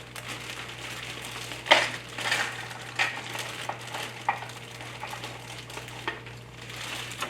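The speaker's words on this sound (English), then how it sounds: "you may need to bend the tray a little bit, and they should just pop right out like that" Several crisp cracks and clicks as frozen homemade baby food cubes pop loose from a bent plastic tray, with soft crinkling between them over a low steady hum.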